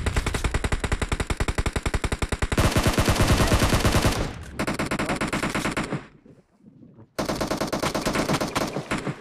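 Rapid automatic gunfire in the mobile battle-royale game PUBG Mobile on the Erangel map, loud continuous bursts with brief gaps and a short lull before firing resumes.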